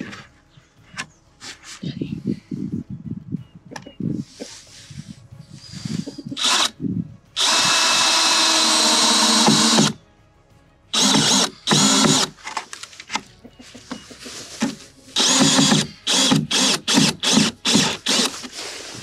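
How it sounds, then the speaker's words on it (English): A power drill whirs in short bursts, with one long grinding run and several quick stuttering pulses as a cheap screw slips and strips, close and loud. "That's the sound of me stripping that screw like crazy"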